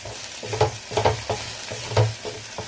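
Ground masala paste for a fish curry fries in a pan under a low sizzle, with a spoon stirring in a rhythmic series of about six scraping strokes, close and fairly loud.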